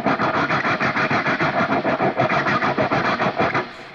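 Side of a hand scraping rapidly back and forth along the low string of an electric guitar through heavy distortion, a dense gritty roar pulsing in quick regular strokes, loud and close with no talking.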